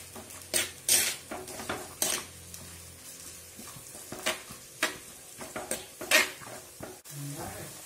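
Onions with salt stirred in a pan for a chicken curry: irregular scraping and clinking of a spoon against the metal pan over a soft background sizzle, fairly quiet and close, with no talking.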